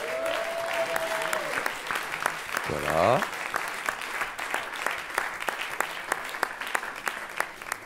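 Audience at a francophone slam poetry championship final in Le Mans claps in a steady, dense round of applause throughout, with someone speaking briefly over it near the start.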